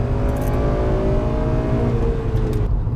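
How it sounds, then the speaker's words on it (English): A 2009 Honda Civic Si engine revs hard under acceleration toward redline, a steady loud rising whine with harmonics climbing throughout, heard alone from inside the car. "Once it reaches VTEC, it just accelerates all the way to redline."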